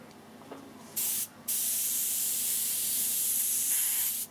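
Airbrush spraying paint in a light dusting coat: a soft, steady hiss in two bursts, a short one then a longer continuous spray, close and fairly quiet with no talking.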